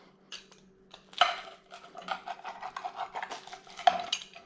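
Pepperoni pizza from a Gozney Roccbox oven being cut, a run of close scraping, crunching strokes across the crisp crust, with a couple of sharper knocks of the cutter against the board.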